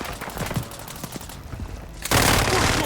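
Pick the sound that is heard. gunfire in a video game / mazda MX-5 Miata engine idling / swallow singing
gunfire in a video game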